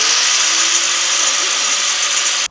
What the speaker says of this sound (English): we've managed to borrow an angle grinder off somebody